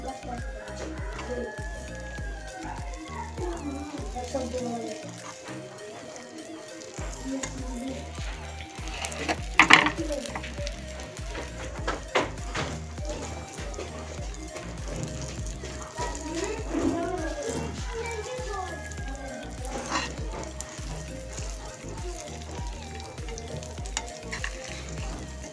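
Chickpeas roast in desi ghee in a pan, sizzling steadily while a spoon stirs and scrapes them, with someone talking over the cooking.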